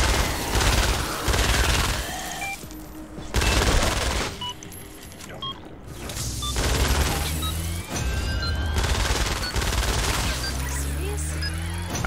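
Rapid bursts of gunfire from Fortnite: Save the World combat, loud and repeated in clustered volleys with brief pauses, layered with game effects and a voice talking.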